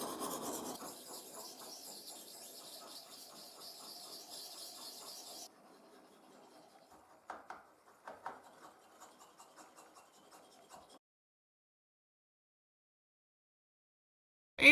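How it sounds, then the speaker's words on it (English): Handmade knife blade being sharpened to a razor edge: faint, steady rasping and scraping strokes for several seconds, then quieter intermittent scrapes before falling silent. "And finally, I sharpened it to a razor edge."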